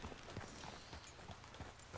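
A horse's hooves clip-clop in an even, rhythmic gait while riding in Red Dead Redemption II, faint and distant against a soft background.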